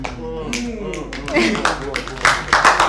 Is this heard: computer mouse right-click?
no